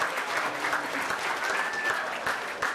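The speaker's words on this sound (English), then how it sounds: "we're going to give her a round of applause anyway." Audience applauding at a fall high school sports banquet for football, cheer and dance teams, a steady sustained clapping from a crowd with no break for nearly three seconds.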